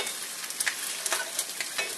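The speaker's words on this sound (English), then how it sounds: "Sizzle, my bacon." Turkey bacon sizzles in a frying pan, a close, continuous crackle of popping fat with small sharper spits scattered throughout.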